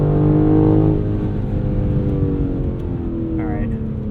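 BMW M3 Competition xDrive Edition 50 Jahre, a 2023 car, sending a loud, steady engine drone with harmonic overtones that eases slightly, with brief crackles later on, heard from the cabin.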